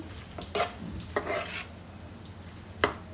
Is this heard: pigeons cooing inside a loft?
no